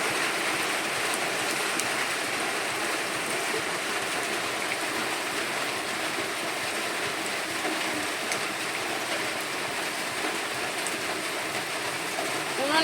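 Heavy rain pours down in a dense, unbroken hiss that stays loud and even for the whole stretch, with no other sounds standing out.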